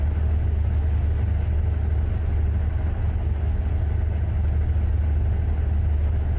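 Deep, continuous rumble of a modded truck's C18 engine making 1,001 horsepower in a truck driving game, droning steadily at cruising pace with a faint high whine above, no talk.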